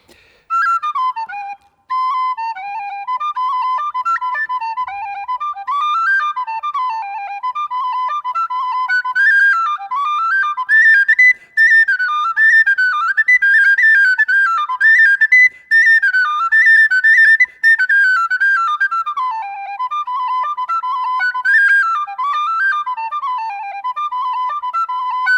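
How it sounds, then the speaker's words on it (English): An Irish reel on a D tin whistle, a bright, flowing solo melody played steadily and close for the whole stretch, with only brief breath breaks and no talking. "just going to hear what it sounds like on the D whistle now"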